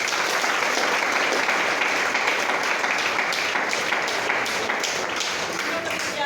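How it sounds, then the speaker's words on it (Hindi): Audience applause for gurus at a DXN motivational seminar: dense, steady clapping filling the room from start to finish, loud and continuous with no pause. "सभी गुरु के लिए जबरदस्त ताली"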